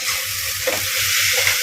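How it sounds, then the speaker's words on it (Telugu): Spoon stirring vegetable pulao in a pot over the stove, soft rhythmic scraping strokes beneath a constant loud sizzle of frying vegetables. "ఒకసారి మళ్ళీ తీసుకొని కలుపుకుందాము."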